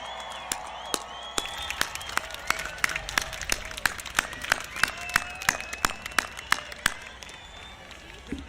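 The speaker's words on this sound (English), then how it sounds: "Let's give them all one big round of applause." Graduation audience applause at a 2021 high school ceremony, scattered claps building into steady clapping under whistles and cheers, fairly distant in a large venue.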